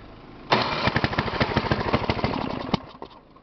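A small engine on full choke cranks and then sputters into rough, uneven firing, a fast train of loud, close chugs that falters and dies after about two and a half seconds.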